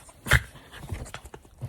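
Puppies snuffle and pant softly up close while being cuddled in bed, with one stronger breathy burst followed by quieter irregular rustling breaths.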